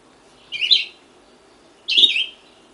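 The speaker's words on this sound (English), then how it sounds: "good chance you're going to hear this bird carrying on again and again" A songbird in northeastern woodland sings two short, bright phrases about a second apart, clear and fairly close against a quiet background.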